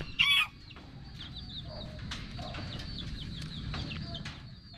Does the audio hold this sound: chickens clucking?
yes